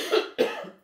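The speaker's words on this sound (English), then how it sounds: "Sorry for the cough." Two quick, close coughs from a man, the second following right after the first, sharp and dry against an otherwise silent background.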